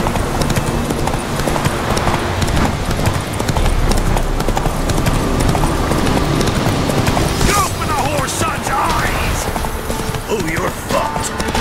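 Horse hooves clip-clopping rapidly in a steady galloping rhythm during a race in The Witcher 3, loud and close, with a brief whinny and some clattering near the end.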